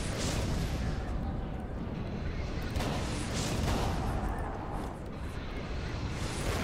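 Gunfire in the horror game Call of Cthulhu: Dark Corners of the Earth, booming over a dense, continuous rumbling din, with a couple of broader blasts standing out near two and three and a half seconds.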